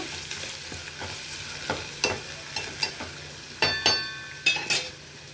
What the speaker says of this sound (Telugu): రెండు ఉల్లిపాయలు సన్నగా తరిగి నాలుగు పచ్చిమిర్చి నిలువుగా చీల్చి పోపులో వేసుకొని వేయించేద్దాం